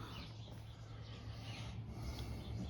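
Hand sanding of tape-mark ridges on a freshly painted surface with a multi-tone Rust-Oleum finish gives a steady, continuous close rasping rub with no breaks and no talk.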